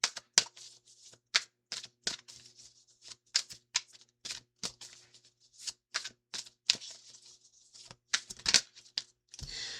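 A tarot card deck being shuffled by hand, close and quiet, in a run of crisp riffling bursts and flicks with short pauses between them.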